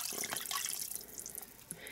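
Four quarts of water poured into an Instant Pot for rotisserie chicken bone broth, a steady splashing, trickling stream with bright hiss, moderately close and continuous for the whole stretch.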